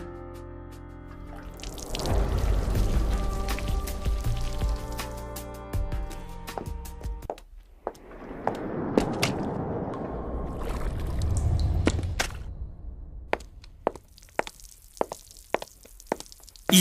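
Foley footsteps are made in a water puddle to imitate someone walking in the rain. Wet splashing steps and drips repeat over a steady watery wash, with a short pause midway.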